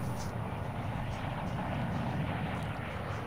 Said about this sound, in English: There's that death helicopter over there.